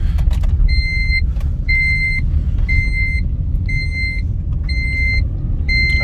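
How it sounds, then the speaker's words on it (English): A Vauxhall Agila Design car accelerates gently in drive, its steady engine rumble running throughout, while a repeating two-tone electronic beep sounds at regular intervals over it. "As you can see, I am flooring it very lightly. The car goes."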